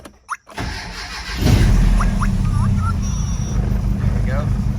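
A Mitsubishi Mighty Max truck's engine cranks and catches after a brief pause, then settles into a steady, loud idle that runs near and continuous to the end.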